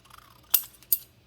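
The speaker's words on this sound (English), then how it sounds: "So this is the scissors I use to fussy cut." Small fussy-cutting scissors snip paper twice at close range during an altered paperclip banner craft, two crisp separate cuts against a quiet background.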